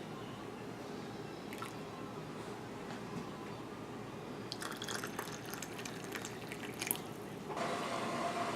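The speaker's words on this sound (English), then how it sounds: "next you fill each jar to the bottom of the rim with boiling water" Boiling water is poured into glass canning jars of pork and beans, giving a soft, steady trickle and faint splashing with a few brief drips, quiet and close by.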